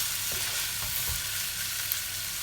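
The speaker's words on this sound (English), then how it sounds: "So you want to just keep browning it. Make sure it's seared right through." Meat browning for moussaka in a frying pan, a steady close sizzle with faint stirring scrapes running throughout, no voices.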